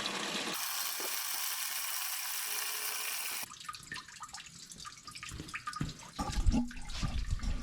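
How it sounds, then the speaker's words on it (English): Old, stale fuel drains from a car's fuel tank, a steady rushing splash of liquid that shifts into uneven gurgling drips and rattles, with a few louder knocks near the end. "while that fuel is draining"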